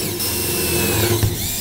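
A power drill at maximum torque whirs steadily at close range driving screws inside a shipping container, its motor pitch holding then briefly bogging down as it drives in.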